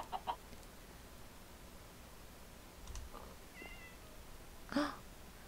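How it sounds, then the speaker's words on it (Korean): A cat meows a few times in the Minecraft video game: short faint cries early on, a brief one near the middle and a clearer meow near the end, over quiet background with no talk. "고양이 소리까지 들리고"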